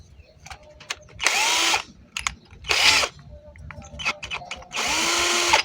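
A cordless drill with a freshly replaced chuck runs in three short bursts, each spinning up and winding down, close by, with small mechanical clicks and taps between the runs.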